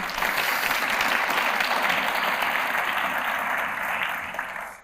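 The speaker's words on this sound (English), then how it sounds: "Big round of applause for Claire." An audience applauds steadily for several seconds, a dense wash of clapping that holds level and then cuts off.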